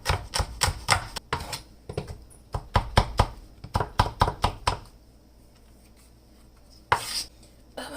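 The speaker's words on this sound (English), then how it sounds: "now I'm gonna cut up maybe a clove of garlic" A knife chops a single clove of garlic on a cutting board, about twenty crisp, quick knocks arriving in uneven bursts, close and fairly loud, then a pause and one last sharp chop.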